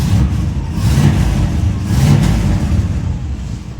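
A 1964 Buick LeSabre engine is revved from a rough idle, swelling twice into loud, throaty surges close by, then dropping back to a steady rumble.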